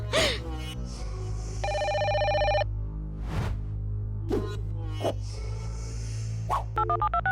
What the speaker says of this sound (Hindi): रिंग बज रही है। फोन उठाओ।